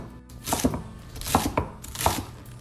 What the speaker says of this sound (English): We will also cut up these bietole, these Swiss chards.